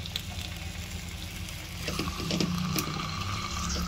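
A marinated, pounded pork chop fries in a pan, crackling and sizzling steadily; the sizzle grows louder partway through, with a few light clicks from handling.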